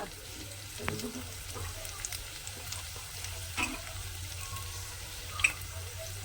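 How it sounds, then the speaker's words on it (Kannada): Onions fry in oil with a soft, continuous sizzle in the background. There are a few faint knocks, and a voice is heard briefly. "ಎಣ್ಣೆನೆ ಫಸ್ಟ್ ಫ್ರೈ ಮಾಡ್ಕೊಂಡು ಇದ್ರೊಳಗೆ ಈರುಳ್ಳಿ ಹಾಕ್ತೀರಾ?"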